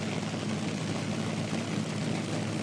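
Top Fuel dragster engine roaring through an IHRA Outlaw Nitro Series drag racing run, a loud, steady, broadband engine roar sustained throughout with no talk.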